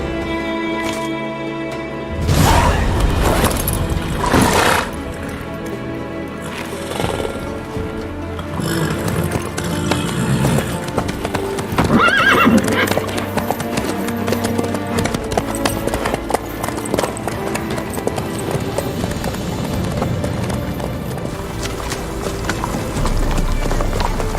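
Horse hooves clip-clopping steadily in The Witcher 3: Wild Hunt as the horse travels along, with occasional snorts or whinnies and brief spoken dialogue layered over the rhythmic hoofbeats.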